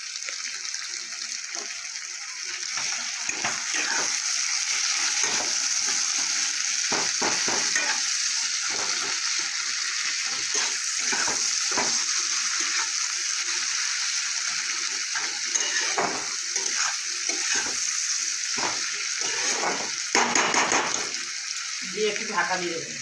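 Chopped tomato and salt sizzling steadily in hot oil for a fesha fish curry, a loud continuous crackle with repeated stirring scrapes throughout.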